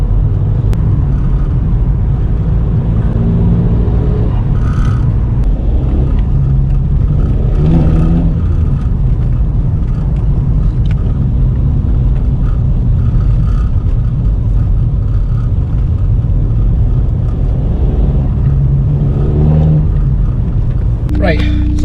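A SEAT Ibiza 1.9 TDI with a modified N75 boost valve drones with a steady diesel engine rumble from inside the cabin on a test drive, rising in pitch a few times as it accelerates, with someone talking over it throughout.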